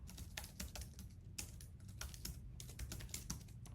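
Quick, irregular clicks of fingers typing on a computer keyboard, faint and close, with no talking.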